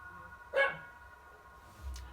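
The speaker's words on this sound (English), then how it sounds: "My dog." A dog indoors lets out a single sharp bark, followed by a quieter thud-like sound a moment later, with no talk heard.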